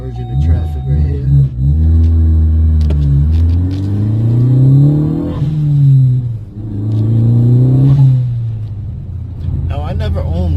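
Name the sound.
2016 Ford Focus ST accelerating, turbo blow-off valve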